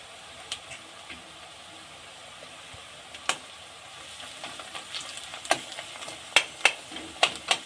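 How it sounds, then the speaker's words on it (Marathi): Crushed garlic and curry leaves hit hot oil in a pan, a faint steady sizzle broken by sharp crackling pops that grow louder and more frequent toward the end, close and with no talk. "त्याला पण चांगलं असं तेलात तटफडून घ्यायचं"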